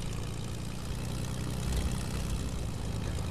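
A plane engine droning in Fortnite, a steady, loud, low propeller hum that holds without a break, with no talk.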